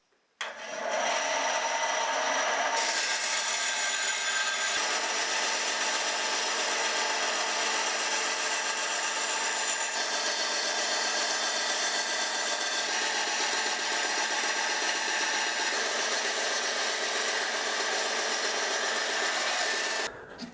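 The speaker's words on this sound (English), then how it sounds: "I'll get these kind of roughly cut out on the bandsaw and see how we go" A bandsaw roughly cuts small wooden blocks for a scratch-built guitar, a steady continuous whining buzz running nearly the full length with slight shifts in pitch as the blade works through the wood.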